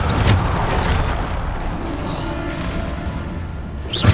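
Bombarda explosion spell in Hogwarts Legacy, heard as a dense, sustained roar of booming blasts, with sharper bursts near the start and end and a steady rumble filling the gap between them.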